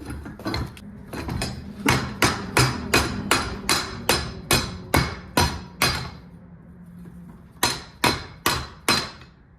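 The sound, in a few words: hammering to get a bolt out of engine parts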